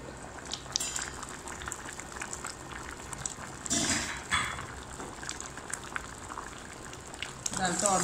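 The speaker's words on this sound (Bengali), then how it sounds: "এখন সিদ্ধ করতে হবে, ভালো করে গলবে" Lentil dal boiling in a covered pot on low heat, a soft continuous bubbling and hiss with brief louder surges, close, with a voice speaking at times over it.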